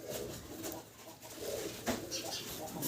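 Caged Modena pigeons coo close by in soft, throaty, repeated rolling calls that overlap one another, with a faint murmur of voices in the background.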